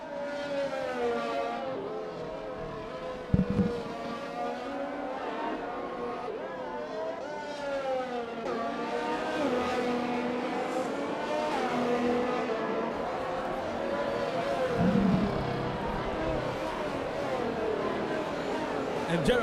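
Formula 1 cars in a racing video game whine past with rising and falling engine pitch, heard steadily under continuous commentary, with a couple of brief knocks.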